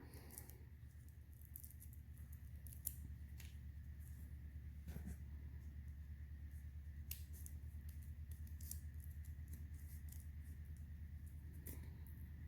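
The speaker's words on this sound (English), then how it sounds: "make sure you've got a nice sharp pair of scissors to do this with" Sparse, crisp snips of sharp scissors cutting paper snowflakes, scattered irregularly over a steady low hum in a quiet room.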